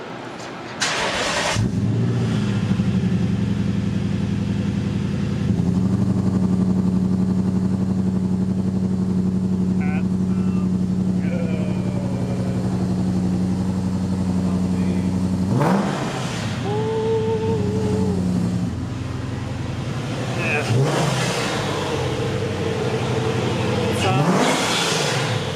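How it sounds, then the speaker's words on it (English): A 2008 Lexus IS F V8 cold-starts with a loud crank and catch, then settles into a steady high idle, with a couple of brief revs later as people talk nearby. "We're gonna give you guys a, what is it, cold startup? Yeah. Cold startup on a 2008 ISF."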